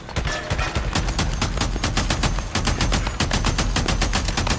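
Rapid automatic gunfire in the video game Days Gone, dense bursts of sharp shots hammering in quick succession, loud and continuous across the whole stretch, with no talk over it.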